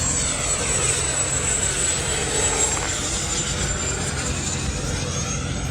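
An E-flite F-16 radio-controlled jet with a ducted fan whooshes past in a steady, high whine with a slight pitch drift, moderately loud and with no talk.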